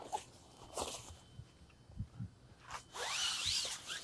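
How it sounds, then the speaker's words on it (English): Zipper on the back of a CleverShade 360° Ultra-Lite awning cover being undone, a close rasping pull near the end after quieter rustling and handling of the fabric. "Undo the zipper at the back here."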